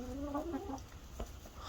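Free-range chickens cluck outdoors in a short burst of nearby throaty calls, then quieter scattered sounds over faint background noise.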